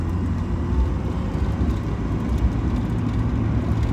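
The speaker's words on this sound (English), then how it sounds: "The car really picks up nicely." A Mazda Miata with a noisy power steering pump and slightly chunky transmission accelerates, its engine giving a steady, loud low-pitched drone that holds throughout.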